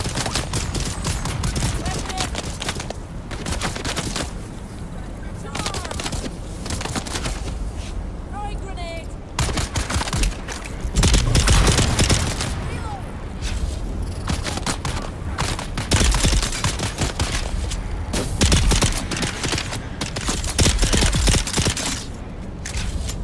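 Gunfire in the video game Dune Awakening, including a small pistol, rattles in dense bursts, loud and close, mixed with other game effects and someone talking over it.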